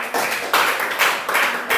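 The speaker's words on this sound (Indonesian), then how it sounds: "Tepuk tangan dulu" Students clapping in a classroom lesson in a short rhythmic pattern of four loud, even bursts of hand claps, close and fairly roomy, with no talking.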